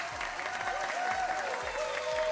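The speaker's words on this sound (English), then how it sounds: "Where is my cheering?" Steady crowd applause, a dense continuous patter of clapping at moderate level with no breaks, heard alone.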